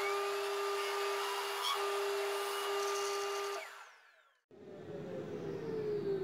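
A Lombarte BDX 48 combination belt and disc sander runs with a loud, steady motor whine while sanding, fades and winds down into a brief silence, then starts up again and keeps running.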